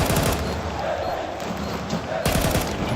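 Rapid automatic gunfire from a Counter-Strike 2 match in a playoff game, with dense bursts of shots, a short lull, then another volley, under a caster's commentary.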